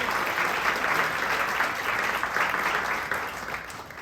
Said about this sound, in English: Please give Marcia a round of applause.